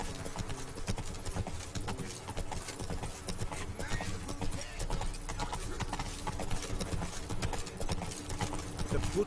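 Geralt's horse Roach galloping in The Witcher 3 Blood and Wine, with a steady, rapid clip-clop of hooves close by throughout, over low ambient game sound.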